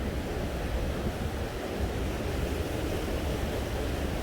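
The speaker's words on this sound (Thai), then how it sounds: "เสียงน้ำไหลพี่น้อง" Continuous rushing water of a mountain stream fed by melting snow fills the scene, a steady broadband roar without pause, like a fast stream or torrent heard up close.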